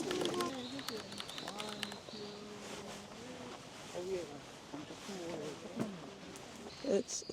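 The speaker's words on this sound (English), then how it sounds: "All you hear are like the birds and then the wind every now and then" Faint bird calls and coos over a murmur of distant crowd chatter and outdoor ambience at a forest near Mount Fuji in Japan, with a louder call near the end.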